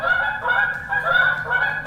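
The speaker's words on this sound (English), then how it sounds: "Canadian geese!" Canada geese honk loudly and close by in a continuous overlapping chorus of nasal calls that runs without a break and with no voices over it.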